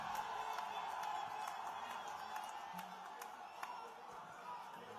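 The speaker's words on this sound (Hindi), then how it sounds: "एक बार जोरदार तालियों से मुख्यमंत्री जी का स्वागत करें" Distant crowd claps and cheers to welcome Chief Minister Yogi Adityanath at a Delhi election rally, a faint, steady patter of applause with scattered whoops and shouts.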